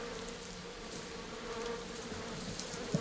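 Outdoors, a swarm of bees gathered around a tree buzzes as a steady, fairly faint drone with a constant hum and no voices.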